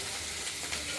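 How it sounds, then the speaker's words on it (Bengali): Potato pieces fry in a pan as the first step of a potato, tomato and paneer curry, giving a brief, steady, close hiss of sizzling oil with no talking. "দেখতে থাকুন, ভাজা হোক আলুটা।"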